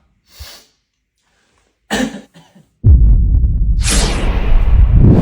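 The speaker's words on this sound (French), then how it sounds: "J'ai la toux." A child coughs a few times, first in short separate bursts, then a longer harsh, rasping fit, close and loud, with silence between.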